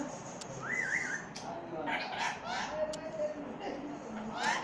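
A Tamil-speaking pet parrot gives a short, warbling whistle amid a busy background of household noise and voices, with brief clicks and chirps around it.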